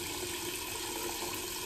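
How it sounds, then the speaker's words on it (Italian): Hot water runs steadily from a tap onto shaving soap, a constant close splashing hiss without pauses. "un po' d'acqua calda nel sapone"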